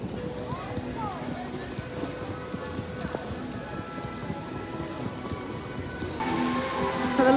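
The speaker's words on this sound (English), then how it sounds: "this rain is something else. It's really heavy" Heavy, persistent rain falls at Disneyland Paris, a dense steady patter of drops on surfaces close by, with scattered splashes and some background activity throughout.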